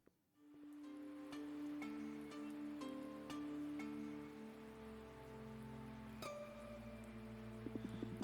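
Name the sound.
rain falling, from the video game Universe For Sale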